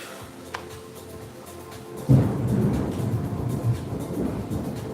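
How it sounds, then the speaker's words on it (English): Thunder rolls outside a home garage with the door half closed: a low, heavy rumble suddenly swells midway and keeps grumbling steadily to the end over a faint background hiss. "Y'all hear that thunder?"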